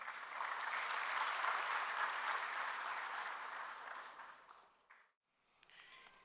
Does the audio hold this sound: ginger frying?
no